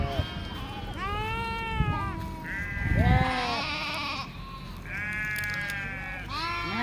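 Sheep grazing in a summer meadow in Kashmir bleat repeatedly and loudly, several animals calling one after another against a steady outdoor background, with no talking.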